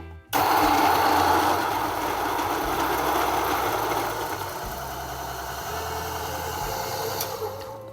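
Electric Duo flat-burr coffee grinder grinding 20 grams of beans, a steady loud whirring motor drone that starts abruptly and runs continuously, easing slightly partway through, with no talking.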